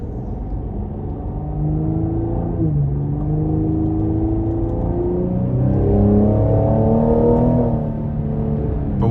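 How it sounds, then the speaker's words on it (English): A 2024 Cadillac CT5-V twin-turbo V6 with a 10-speed automatic pulls hard from inside the cabin, a loud, rising engine drone climbing through several gear changes with deep rumble underneath. "when you really put your foot down into it, you start to feel those turbos come to life"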